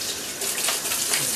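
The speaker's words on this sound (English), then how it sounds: "just get them under the water, rinse them out well." Tap water runs and splashes steadily as glass pickle jars are rinsed beneath it, a close, continuous rushing gush with small sloshing variations.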